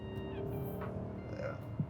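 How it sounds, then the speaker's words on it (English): A BMW E39 M5 V8 gives a steady, rumbling induction and engine drone from inside the car while it drives, close and moderately loud, with no talking. "That induction noise is pleasant."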